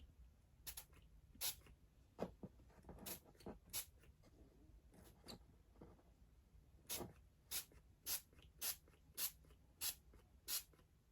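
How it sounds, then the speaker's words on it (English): An aerosol spray can sprays a Dollar Tree Christmas craft in short hissing bursts, irregular at first and then a quick even run of puffs, close and fairly quiet against a low background hum, with no talking. "But I'm going to spray it."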